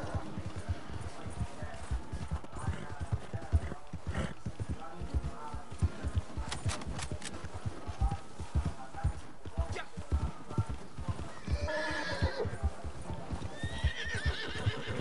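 A horse in Red Dead Redemption 2 clops along with rapid hoofbeats, then lets out a loud whinny near the end, while a player talks over the game sound.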